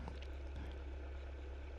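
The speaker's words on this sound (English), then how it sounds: "I just started up the engine and I'm turning on the avionics" A Cessna 172 training airplane's engine idles steadily just after startup, a constant close, loud low drone with a faint higher whine throughout, no voices.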